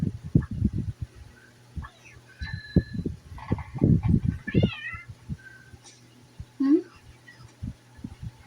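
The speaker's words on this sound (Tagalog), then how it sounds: "Ang cute ng pusa." A pet cat meows a few times indoors, the wavering cries rising and falling between low murmured sounds and soft thumps, with people talking quietly nearby.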